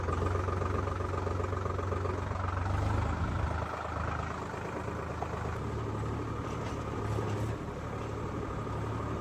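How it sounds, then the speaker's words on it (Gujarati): Mahindra Arjun 605 farm tractor engine running at a steady, even idle, a low continuous rumble with faint vibration and no talking. "આપણે આ ટ્રેક્ટર લઈને જવાનું છે ઘરે"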